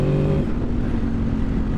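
A Honda VFR800 motorcycle engine fitted with a cheap aftermarket turbo, warning light on, revs in a loud, steady, close drone with no pauses or voices.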